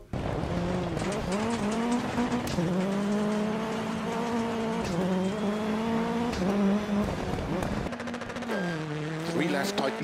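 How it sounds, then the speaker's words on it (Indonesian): A rallycross car racing in the video game Dirt Rally 2, its engine note rising and falling through repeated gear changes, with bursts of tire squeal and skidding, loud and continuous. "Dan buat kalian yang mau tahu sensasi perbedaan antara kedua mobil ini di game Dirt Rally kayak gini nih."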